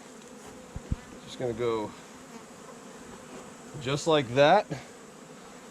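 Honeybees buzz around an open hive while a bee escape is installed between the brood and the supers. The steady close hum runs under brief spoken remarks, with a couple of sharp clicks early on.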